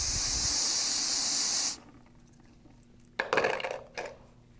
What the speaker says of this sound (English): we're going to clean all these up just a little bit with some brake clean and put them in to soak